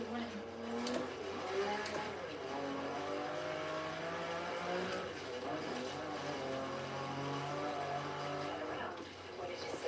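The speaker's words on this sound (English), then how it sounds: "So I know it's a Lamborghini we're driving." A Lamborghini engine in Forza Horizon 3 revs continuously, its harmonics sweeping up and down through gear changes, moderately loud and steady, with people talking over it.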